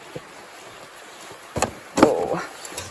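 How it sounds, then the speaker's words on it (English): A leaf blower pushes air through a pipe into a greens-washing bubbler, giving a steady broadband rushing hiss with a few louder knocks and splashes toward the end. "connects to this leaf blower, which puts the air up in through the pipe and down into the bubbler"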